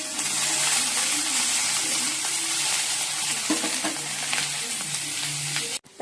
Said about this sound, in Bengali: ঢেঁড়স আলু তরকারি করবো, তা ঢেঁড়স আলু ভেজে নিচ্ছি একটু